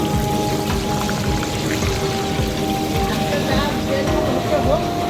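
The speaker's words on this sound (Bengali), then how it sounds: "মাছ ভাজছে পমফ্লেট মাছগুলো ভেজে আলাদা জায়গায় তুলে রাখা হচ্ছে" Pomfret fish fry in hot oil, giving a steady, dense sizzle that holds evenly throughout, with voices talking underneath.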